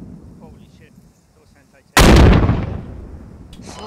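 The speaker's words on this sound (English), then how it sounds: "That guy's tossing anti-tank frags at us." A sudden, loud anti-tank grenade blast from the Squad video game lands near the two-second mark after quiet movement and faint voices, then its rumble slowly decays over the next second and a half.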